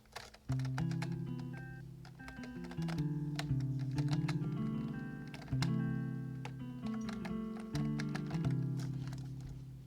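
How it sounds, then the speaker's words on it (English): A warm plucked guitar from a free Spitfire Labs software plugin plays a gentle repeating melody, notes ringing and overlapping at a soft, even volume. "A Peel guitar from Spitfire Labs."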